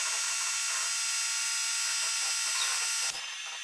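A Tormach CNC mill takes a light finishing cut in heat-treated 4140 steel for a custom Brembo caliper bracket, giving a steady high-pitched whine with faint harmonic tones that drops away sharply near the end.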